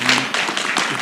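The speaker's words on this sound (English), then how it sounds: "Let's give him a round of applause" An audience at a university teaching and learning center launch event claps in a brief, dense burst of applause.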